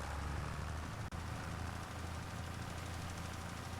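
A tractor engine in Farming Simulator 25 runs as a steady, dense mid-to-low drone, constant and close, with no talk over it.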